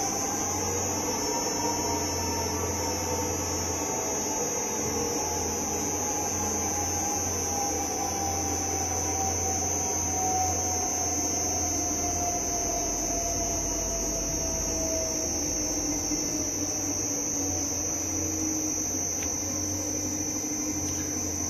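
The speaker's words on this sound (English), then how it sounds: "Now we stop it, and I start the mixer. This is the speed down. First we test the half speed." A Karvil 1000L ribbon mixer loaded with isomalt and inulin food powder runs at half speed with a steady, continuous mechanical hum and a faint high whine. The tone stays unbroken throughout, with no talking.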